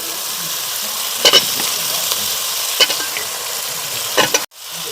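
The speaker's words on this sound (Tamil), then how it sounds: "இப்போ வந்து நம்ம சிக்கன் ஸ்பேர் பார்ட்ஸ் ஆட் பண்ணிக்கலாம்." Chicken spare parts (organs) sizzle and fry in a pan with a steady hiss, broken by a few short scraping stirs, before the sound cuts off abruptly near the end.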